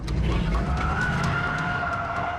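A car speeding away in a spy-car escape test, its engine roaring steadily with a tonal tire squeal held throughout, loud and close, with no talk.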